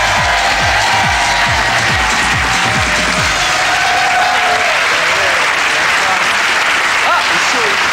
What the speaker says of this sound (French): On d'applaudir monsieur Daniel Lavoie.